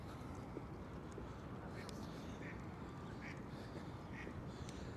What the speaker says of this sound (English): As the ducks go a-quacking here in Central Park. The ducks are quacking.